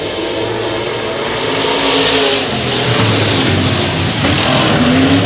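A race car at a Texas speedway, its engine running with a broken exhaust header, roars loud and continuous as it revs and accelerates nearby, with no talk over it.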